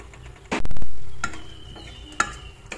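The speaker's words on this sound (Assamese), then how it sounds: "এতিয়া ইয়াত ফ্ৰাই কৰি থোৱা সৰু মাছকেইটা ইয়াত দি ল'ম।" Small fried fish dropped into a pan of simmering bitter gourd curry: a clattering splash followed by sizzling and stirring, then a sharp metallic tick from the pan, all close and fairly loud, with no voices.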